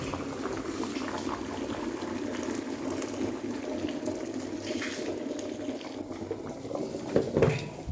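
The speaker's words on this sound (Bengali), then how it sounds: "এই যেখানে জল গরম করতে বসিয়েছি।" A pot of water is heated on the stove, giving a steady low bubbling hiss at moderate distance and a brief clatter near the end.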